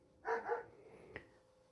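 A dog barks indoors after playing in the snow, one short double woof followed by a faint click, close and otherwise quiet.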